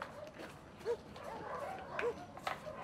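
A dog barks faintly in the background, giving two or three short yips spread over a few seconds against a soft, noisy room tone.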